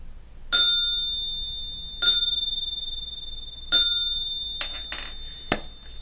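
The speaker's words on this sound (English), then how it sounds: "Let me ring my bell." A small hand bell is rung several times, each bright metallic ding ringing out and slowly decaying, with pauses between strikes and a few quicker, softer jingles near the end; no talking.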